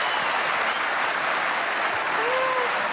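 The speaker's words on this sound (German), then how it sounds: "Das ist ein Applaus werden, oder?" Studio audience applauding at a live German Saturday-night TV game show in Rostock, a dense, steady wash of clapping that fills the whole stretch evenly without a break.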